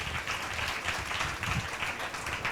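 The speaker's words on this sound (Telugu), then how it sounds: "చప్పట్లు కొట్టి ప్రభుని కనపరుస్తాం" A church congregation at a Sunday worship service claps together in a steady, rhythmic beat, loud and close throughout.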